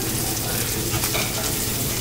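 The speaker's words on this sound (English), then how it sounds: "you're gonna use your spatula to slowly put the shrimp onto the mixture that you made" Shrimp are pushed with a spatula into a frying mixture for shrimp and noodles, giving a dense, steady sizzle and soft scraping, close and loud throughout.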